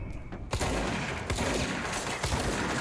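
Gunfire from a sniper in the video game Control, a sharp crack after a brief quiet lead-in, then dense sustained shooting and booming impacts, loud and close.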